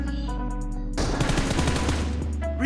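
Rapid automatic gunfire in a PUBG Mobile gun game match, a dense burst of shots that begins about a second in and runs on, loud and close, after a brief stretch of game background sound.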